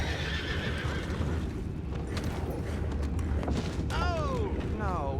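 A horse whinnies near the end in Red Dead Redemption 2 over a steady rumble of background noise and distant hoof clatter.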